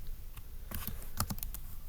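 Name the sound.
typing a search on a computer keyboard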